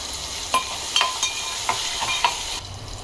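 Chopped green chilies sautéing in a hot pan, a steady close sizzle broken by several scraping stir strokes, with no talking.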